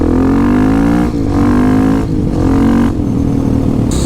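A motorcycle accelerates hard through several gears, each loud rising engine pull broken by brief dips at the shifts, close to the listener with no talking.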